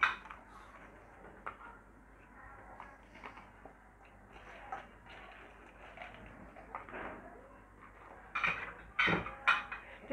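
Plates and dishes clink and clatter as they are handled in a home kitchen, scattered sharp knocks that grow busier and louder toward the end.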